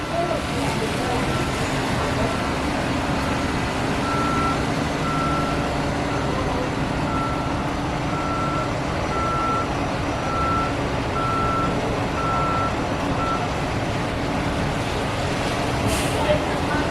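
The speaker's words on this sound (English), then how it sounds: "to get out, they're forced to reverse through this big tarmac-like area" City buses reverse out of a New York bus terminal across a wide tarmac area, their steady intermittent reversing beeps sounding over continuous heavy diesel engine rumble and traffic noise.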